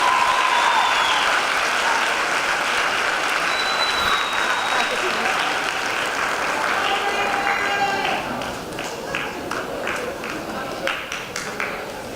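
A large crowd at a medical school white coat ceremony applauds steadily, loud and sustained, then the clapping thins and tapers off toward the end.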